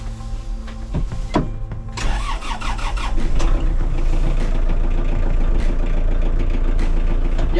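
A Hitachi NTX367 mini tractor engine cranks with a few clicks and whirs, catches, and settles into a steady loud idling rumble.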